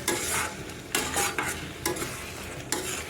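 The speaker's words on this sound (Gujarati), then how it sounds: "ગરમ મસાલો પણ નાખી દો, એને મિક્સ કરી લીધું છે." Garam masala being stirred into a peanut curry in a pan, rhythmic scraping strokes about once a second over a soft continuous sizzle.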